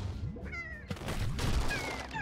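Cat meows in the video game Slime Rancher, a couple of short rising cries amid thumping, crashing game effects, fairly close and loud, with no talk.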